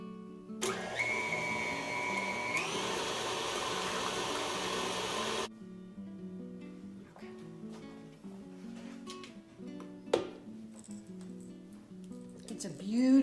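Electric mixer running loud and steady as it blends cream cheese icing for a Bundt cake, its motor whirring for several seconds, then cutting out and leaving quieter clinks and bowl noises.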